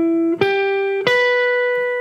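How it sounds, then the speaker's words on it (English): A guitar string rings with a sustained, clear harmonic tone during a finger-rolling sweep-picked arpeggio, with two soft pick attacks re-striking the note as it fades gradually, heard alone without talk. "What you're hearing there is a little bit of the harmonic."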